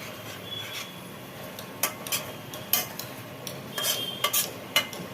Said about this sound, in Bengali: ঢাকনাটা খুলে একবার দেখে নি কি অবস্থা একটু নেড়ে দিই